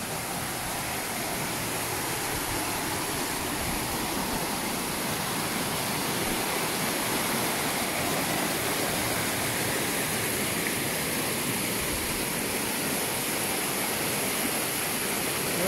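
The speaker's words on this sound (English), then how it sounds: "the mountains provide all this runoff of these mountain springs all over" Mountain spring runoff pouring out through a cluster of pipes at an outdoor spring site in the Albanian mountains, a steady, loud, continuous rush of falling water with no pauses.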